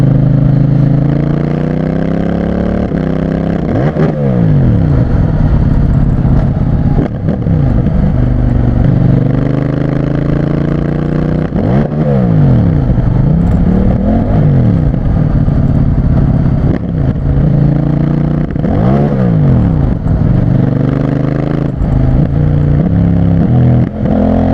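A CFMOTO 800NK muscle street bike ridden on the road, its engine loud and constant, with repeated rising revs through the gears and brief dips at each shift, heard close throughout.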